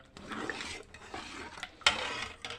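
Flour batter for chitoi pitha being stirred in a bowl, soft scraping and swishing strokes in an uneven rhythm with a sharper clink of the spoon near the end, close and fairly quiet.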